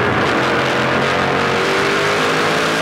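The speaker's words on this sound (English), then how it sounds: "Kerry Mix hard on the power up through the gearbox" A stock car under hard acceleration, heard onboard at a race, gives a dense, loud engine roar that climbs continuously through the short stretch with no talk.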